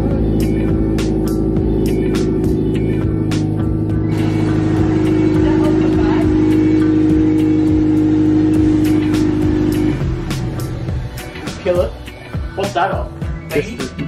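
Mazda MPS engine with a high-mount turbo fires up for its first start, running loud and steady with a strong drone, then settling into rougher, uneven idling as voices talk over it nearby.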